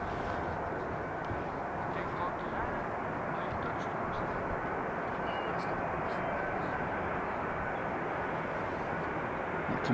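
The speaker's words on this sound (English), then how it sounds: "So this is the 777-200 from KLM coming in from Toronto" A KLM Boeing 777-200 arriving from Toronto touches down on runway 18R at Amsterdam Schiphol, its broad steady jet roar filling the air continuously at moderate distance, with a faint voice underneath.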